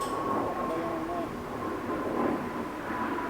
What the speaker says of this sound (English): is that a plane from Andrews? Is that why it was so low?